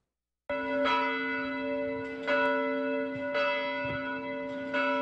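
Church bells ring out loudly across a city marking the 100th anniversary of the end of World War I, long resonant tones struck repeatedly at a slow, uneven pace, each stroke lingering and overlapping the next.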